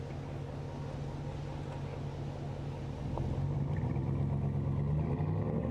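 A Dodge Ram truck crawls slowly across a beach, its engine a low, steady rumble that swells slightly partway through, with wind and surf-like noise mixed in.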